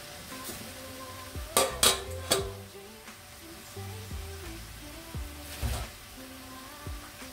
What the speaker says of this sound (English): Just going to give this a mix to heat up our noodles properly